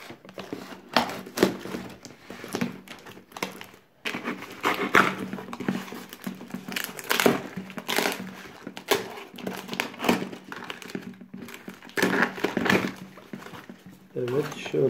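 A package of fishing tackle is unwrapped, with crinkling plastic and rustling handling noises in irregular bursts, close by under intermittent speech.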